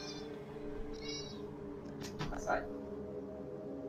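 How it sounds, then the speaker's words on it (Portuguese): A house cat meows indoors while trying to get out of a room, giving a couple of fairly faint, drawn-out cries over a steady background hum while people talk nearby. "Vocês estão ouvindo um gato miar, gente?"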